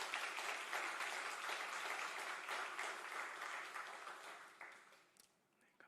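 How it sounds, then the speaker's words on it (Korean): A church congregation gives a round of applause during a service, a steady wash of clapping that holds for several seconds and then fades out. "우리 박수로 한번 격려하겠습니다"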